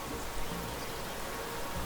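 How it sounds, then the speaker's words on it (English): First scattered raindrops falling steadily as a soft, even patter with broad hiss, faint and continuous, no voices. "the first drops of rain began to fall"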